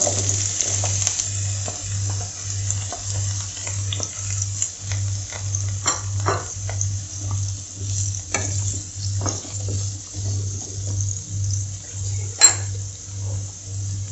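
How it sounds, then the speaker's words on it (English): Pumpkin fries in hot coconut oil with a steady, soft sizzle, under a low rhythmic hum and occasional light clinks from a pan, with no talk. "Once the oil is hot, I'll be adding the pumpkin."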